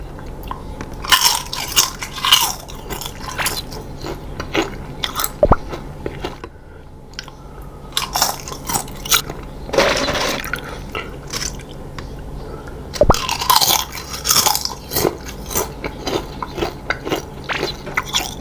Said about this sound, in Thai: ชอบอ่ะเวลามันทอดมันกรอบ